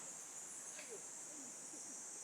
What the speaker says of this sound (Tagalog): Yan, mga kuliglig po ito.